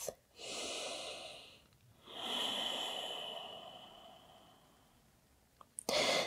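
Slow, deep breaths during a yoga forward fold, heard close and alone: a long inhale, a short pause, then a long sighing exhale, with a faint click at the end.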